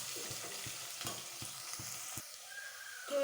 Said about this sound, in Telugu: అలాగే జీడిపప్పు కూడా వేస్తున్నాను, దీంట్లోనే ఇప్పుడే వేస్తున్నాను.